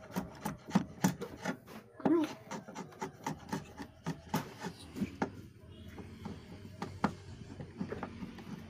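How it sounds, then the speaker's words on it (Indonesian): A chisel scraping and rubbing along the profiled wooden frame of an old door, with repeated short strokes in an uneven rhythm, close by and moderately loud. "saya bersihkan pakai pahat aja"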